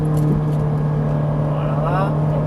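A Ferrari 458 drives on the Haut Saintonge race circuit, its engine a steady loud in-car drone with harmonic whine rising in pitch as it accelerates, while someone talks over it.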